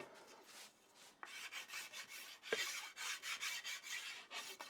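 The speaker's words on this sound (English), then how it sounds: "So we're going to chamfer these top corners a little bit more" A hand file rasps across the top corners of a wooden straight edge, rolling a chamfer from 45 degrees onto both faces, in a run of short rhythmic strokes, close and fairly quiet, with no talk.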